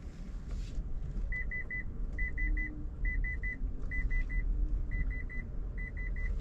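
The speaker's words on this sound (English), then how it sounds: "It is making a beeping sound in here." A 2022 Toyota Sienna's sensor beeps in quick triple bursts, repeating at a steady rhythm over a low engine rumble inside the vehicle.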